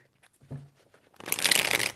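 Tarot cards are shuffled in a single close riffle lasting about a second, after a faint tap and a short quiet pause.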